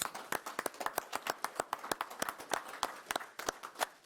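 Scattered hand clapping at a county commission meeting honouring the IT staff, a modest round of claps with distinct individual slaps, fairly close and sparse rather than a dense ovation.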